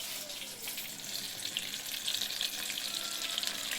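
Flour-coated chicken pieces deep frying in oil over a medium-low flame, giving a steady bright hiss and bubbling sizzle throughout, close and fairly even.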